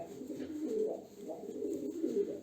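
Pigeons coo in low, rolling, repeated calls, close and steady throughout the short stretch, with no talking.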